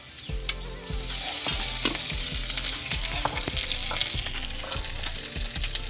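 Ginger and garlic paste fry in hot oil with browned onions while a duck dish is being cooked, giving a close, steady sizzle broken by repeated knocking and scraping of a spoon against the pan, with no talk.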